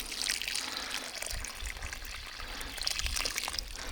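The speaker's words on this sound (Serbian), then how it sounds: "dobro zalite prvo običnom vodom" Water pours and trickles steadily at low volume onto a newly planted tree, a soft continuous splashing with no voices.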